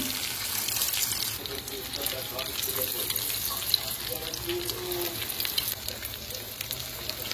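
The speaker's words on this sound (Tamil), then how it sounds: "இன்னொரு பக்கம் தவா வச்சு மீன் வறுக்க ஆரம்பிச்சிட்டேன்" Fish fries on a flat tava griddle with a steady, moderate hiss and crackle, while faint voices murmur in the background.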